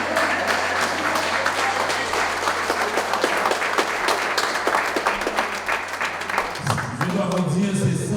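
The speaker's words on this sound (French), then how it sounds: "Applaudissons M. Whitney" An audience at a school alumni gala applauds steadily for several seconds, dense clapping from many hands filling the room, with a voice joining in near the end.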